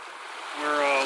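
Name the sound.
Nez Perce Creek stream flowing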